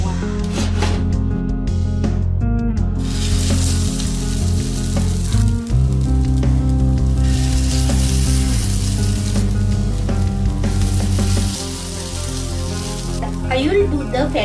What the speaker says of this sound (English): I will do the patty shallow fry.